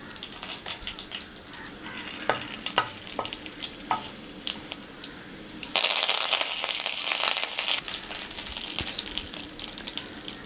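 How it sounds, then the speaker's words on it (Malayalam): Mustard seeds fry in a hot pan for a tapioca curry, with scattered crisp pops and crackles at first, then a sudden louder, sustained sizzle that fades gradually. "ചട്ടി ചൂടായിട്ടുണ്ട്. കടുക് വറുക്കാം."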